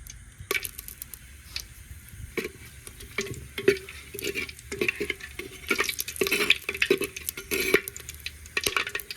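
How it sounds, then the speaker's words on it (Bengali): Whole cloves, cinnamon and cardamom sizzle in hot oil in a clay pot, a crackling hiss with bursts of popping and spoon scrapes that come and go; nobody speaks. "তেলটা গরম হয়ে গেছে লং দারচিনি এলাচটা দিয়ে দেবো"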